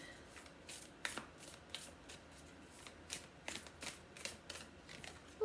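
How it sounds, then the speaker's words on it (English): Akashic Tarot cards shuffled by hand close up, a brisk series of soft papery slaps and riffs in uneven rhythm, fairly quiet with no talking. "we're going to go and draw another card from the Akashic Tarot again"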